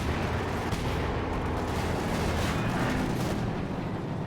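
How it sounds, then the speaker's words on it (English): A light artillery barrage pounds away in a strategy video game match, with dense, overlapping booms and rumbling impacts rolling on continuously and loudly, without a break. "Keeping him penned in with a light artillery barrage, the LAB."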